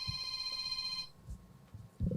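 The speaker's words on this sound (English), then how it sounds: "my phone, I forgot to silence it today" A mobile phone rings during a livestream, its tone steady and clear for about a second before cutting off, followed by low room noise and faint movement.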